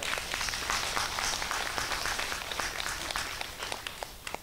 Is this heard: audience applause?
yes